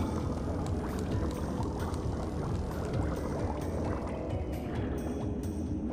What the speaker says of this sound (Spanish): Así que tenemos que mantener la moto acuática.